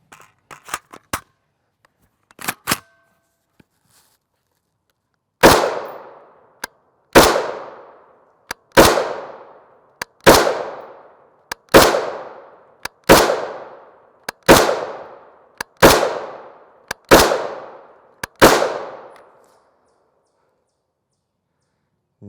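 A bullpup rifle fires 5.56x45mm M855 62-grain FMJ rounds in about ten sharp, loud single shots at a steady, unhurried pace, preceded by a few quieter clicks and handling noises.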